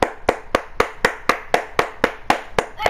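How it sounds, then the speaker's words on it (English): Hands clap alone in a steady, even rhythm, about a dozen sharp claps close by with no talk over them. "Can we get a big round of applause for these people?"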